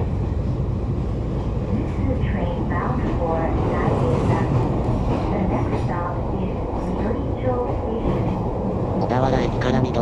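An electric train on the Daiyuzan Line rumbles steadily as it pulls away from Odawara Station, with a continuous low mechanical drone and some faint voices in the background.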